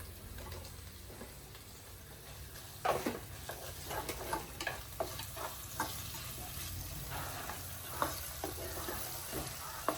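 Tomatoes and onions sizzle steadily in a pan for a dried prawn and mango curry, with occasional stirring scrapes and clicks throughout and no talking.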